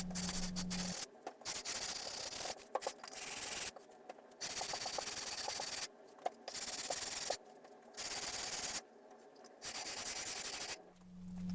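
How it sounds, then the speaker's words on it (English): Sanding the exterior of a wooden display case to 180 grit, repeated passes of abrasive rubbing broken by short pauses, close and steady. "A quick final sanding to 180 on the exterior, and this baby's ready for finish."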